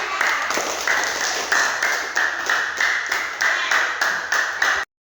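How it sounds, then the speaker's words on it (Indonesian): An elementary school class claps together in a short burst of applause lasting several seconds, with rhythmic waves of clapping before it stops abruptly. "Tepuk tangan dulu"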